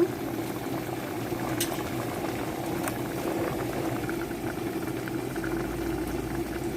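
Tomato and cucumber pieces for dal cooking in a pot, a steady close bubbling boil with a soft constant simmer and no voices.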